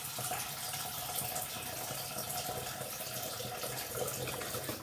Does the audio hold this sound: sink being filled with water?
yes